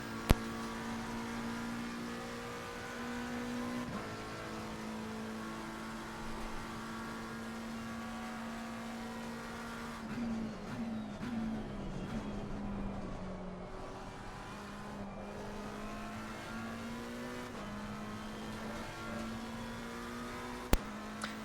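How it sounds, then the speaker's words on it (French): A race car engine in the racing simulator Assetto Corsa Competizione drones steadily for a long stretch, its pitch rising through the gears and dipping on shifts, with no voices. "vous allez me dire ce que vous en pensez du son du moteur."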